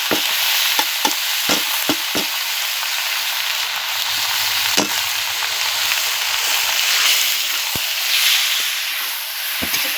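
Prawns and drained taro leaves hitting hot oil with garlic in a pan, a bright steady sizzle punctuated by several sharp clacks of a spatula stirring, close and loud, no voices.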